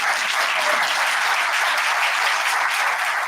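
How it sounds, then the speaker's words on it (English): A college Black History Month program audience claps for an honoree, steady dense applause at even loudness throughout, with no talking over it. "Y'all clap it up for her."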